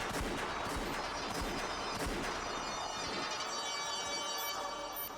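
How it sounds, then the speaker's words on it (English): Repeated gunfire crackles in quick bursts in the visual novel Umineko under dense background noise, fairly distant and low in level. "I heard the sound of repeated gunfire"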